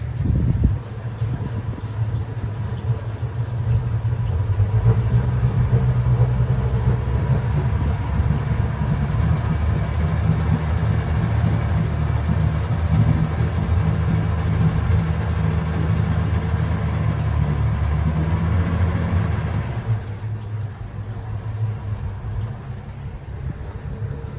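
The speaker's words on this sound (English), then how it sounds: "We'll rev them up a little bit, see how they sound." The engine of a 2022 World Cat 295CC boat idles at the dock with a steady low rumble, then revs up for several seconds before easing back down toward idle.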